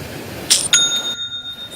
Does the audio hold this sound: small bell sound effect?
yes